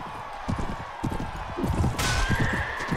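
Armored horses thunder across a medieval battlefield in the game Anno Domini 1257, rapid heavy hoofbeats pounding in uneven bursts with a whinny, clashing noise and a sharp burst near the end.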